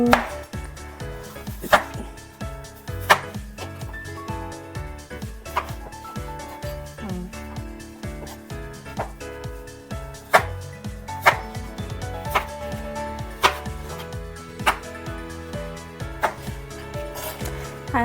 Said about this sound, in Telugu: కొద్దిగా లావుగా కట్ చేసుకోమన్నారు, అలాగే కట్ చేసుకుందాము